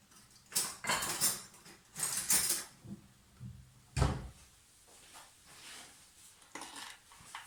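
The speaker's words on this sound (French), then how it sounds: "Je vais prendre une petite cuillère à café." A small teaspoon handled among dishes in a kitchen, with a run of close clinks and clatters of metal on crockery in short bursts, then quieter scattered taps.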